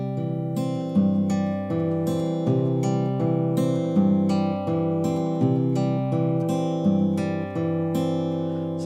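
Travis picking pattern on an acoustic guitar with an alternating bass line, steady plucked notes ringing out in an even rhythm, played alone without talk.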